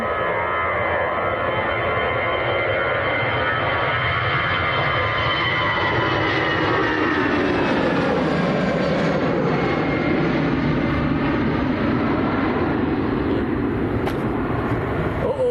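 An EasyJet airliner departs Manchester Airport, its jet engines a loud, broad, sustained roar that swells and shifts in pitch as it climbs away.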